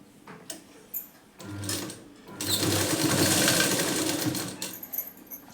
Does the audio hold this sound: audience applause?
no